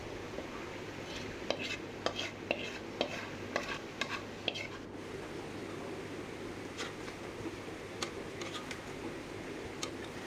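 Mutton kala bhuna is stirred in a cooking pot amid a soft, constant sizzle of frying, with a series of sharp utensil clinks and scrapes against the pot, clustered early and then scattered.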